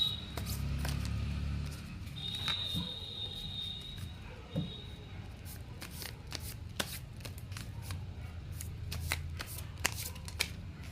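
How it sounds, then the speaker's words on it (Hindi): Oracle cards being shuffled for a card reading: a long run of soft, crisp riffles and flicks, steady and close, with brief sharper snaps scattered through. "चलिए अब आपके लॉरिकल कार्ड्स पुल कर लेते हैं हम लोग"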